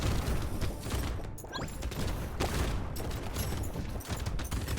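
Shotguns firing in the video game Brotato, a continuous dense barrage of overlapping blasts and impacts that stays loud and busy throughout with no speech.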